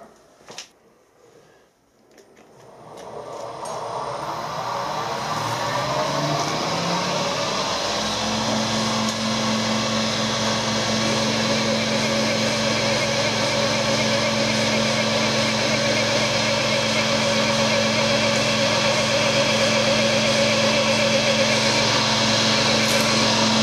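Small cordless drill working into a vintage motorcycle oil filter, whirring up after a few handling clicks, then a steady high grinding hum that settles to a constant loud pitch and runs on without talk.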